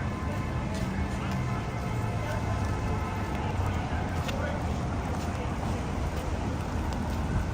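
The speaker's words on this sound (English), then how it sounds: "The rain has picked up. You can hear on the umbrella." Steady rain patters on an umbrella during a night walk through a city street in Toronto, a dense continuous hiss with low rumble underneath, close and constant throughout.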